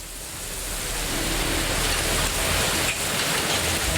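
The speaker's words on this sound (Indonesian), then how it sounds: "hujan deras disertai angin kencang dan butiran es terjadi di wilayah Menteng, Jakarta Pusat" Heavy rain with hail and strong wind pours down in a dense, unbroken roar, loud and steady throughout with no voices, in Menteng, Central Jakarta.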